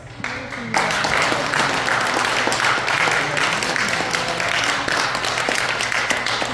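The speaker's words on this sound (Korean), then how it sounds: "서로들에게 한번 격려 응원의 박수를 부탁드립니다." An audience at a monthly gathering inside a church hall in Busan bursts into sustained applause of encouragement, dense clapping that starts abruptly and continues loud and steady to the end.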